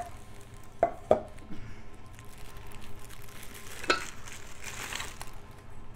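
Metal lids from a camping cook-set being handled, with a few sharp clinks and knocks spread over a quiet background rustle.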